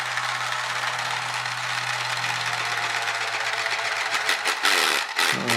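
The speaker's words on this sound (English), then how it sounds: "We'll try the jigsaw first." A jigsaw buzzes against a plastic Spiderbot toy with a broken gear, a close, steady motor drone that roughens and strains into louder rattling bursts near the end.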